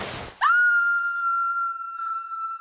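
A girl's high, sustained scream rises sharply after a brief breathy onset and holds a steady piercing pitch for about two seconds, loud and isolated, as an audiobook sound effect.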